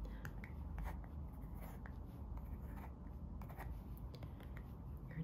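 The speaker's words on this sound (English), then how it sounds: "I'm gonna write down your email address for you." Pen writing out an email address by hand on paper in a quiet office setting, a soft continuous scratching with small strokes and taps, close and faint, no talking.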